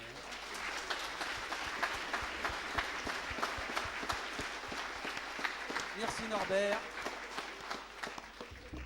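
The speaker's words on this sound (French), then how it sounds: "On peut les applaudir" An audience at a colloquium gives sustained applause, a dense steady patter of many hands heard from within the room, with someone briefly speaking partway through.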